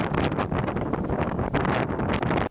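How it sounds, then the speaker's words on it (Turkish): Strong gusting wind batters a microphone outdoors in Kütahya, a loud rough rumble that buffets continuously with fluctuating bursts and no voices. "Kütahya'da şiddetli rüzgar hayatı olumsuz etkiledi."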